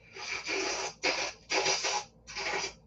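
A human voice imitates a vacuum cleaner sucking up a piece of paper, making four harsh, raspy scraping bursts separated by short gaps, close and fairly loud.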